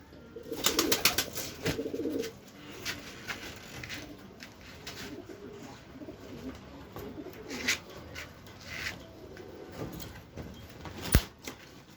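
Pigeons coo softly in a coop, with low murmuring calls spread through the scene alongside rustling and scattered clicks and bumps, fairly quiet throughout.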